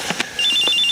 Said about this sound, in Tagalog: Oh, cellphone ko.